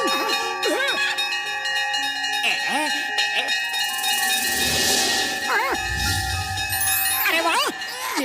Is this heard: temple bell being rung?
yes